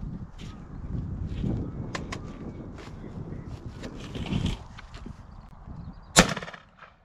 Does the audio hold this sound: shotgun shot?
yes